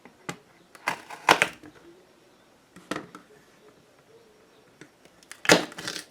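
A knife slicing through a home-grown garden pepper on a board, giving several separate sharp crunching cuts with quiet gaps between them, close and fairly crisp.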